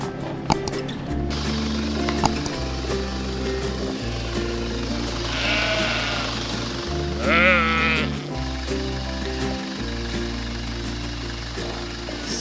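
Sheep bleating in a meadow by a fence being moved, several clear calls rising over a steady low engine-like hum, with a brief voice in the background.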